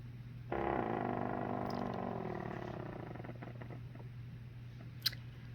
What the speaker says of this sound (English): That is the pump that I have on right now